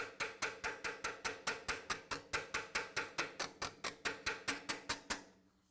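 A hammer works stainless steel trim held tight against an anvil, striking about two dozen sharp, ringing metallic blows in a fast, even rhythm, loud and close, before stopping with a short fading ring.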